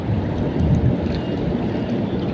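Wind blowing on a fishing boat out on the water, a loud, steady rumbling gust buffeting the microphone with low roaring noise and a faint wash of water throughout.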